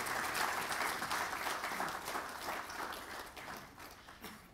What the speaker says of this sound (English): A big round of applause for Mr. KB Lal.